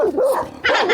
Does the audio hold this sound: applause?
no